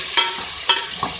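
Green chillies and tomatoes being stirred in a hot frying pan, giving three soft scraping strokes with a light sizzle beneath, close and fairly quiet, with no talking.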